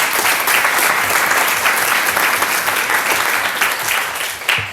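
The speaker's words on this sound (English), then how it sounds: "can we give them a big round of applause?" An audience at a school board meeting claps loudly and steadily, a dense sustained round of applause from a room full of people with no pauses.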